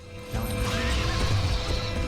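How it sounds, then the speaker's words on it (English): In the God of War video game, a horse whinnies over dense, layered game sound, with a faint hoof clatter and metallic crashing mixed in. The whole brief burst is moderately loud and carries no speech. "he is attacked by a man on a horse that drags him off his course"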